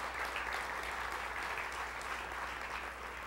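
At a baseball analytics conference, the audience gives the organizers a sustained round of applause: thick, continuous clapping from a large room, steady throughout with a low hum beneath.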